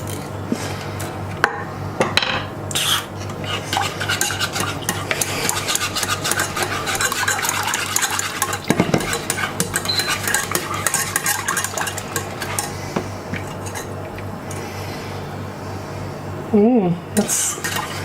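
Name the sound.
whisk stirring Italian hot chocolate in a pan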